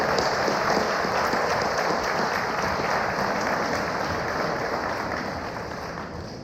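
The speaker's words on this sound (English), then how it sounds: "Please offer a round of applause for all these teachers for all their hard work for all of our students." A school audience applauds teachers at an 8th grade promotion ceremony, a dense, steady wash of many hands clapping at close range that holds for several seconds before easing slightly toward the end.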